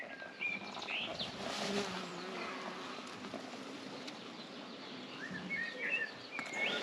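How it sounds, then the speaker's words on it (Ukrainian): Bees buzz in a faint, steady hum outdoors at an apiary, with birds chirping now and then in the background. "Бджоли літають."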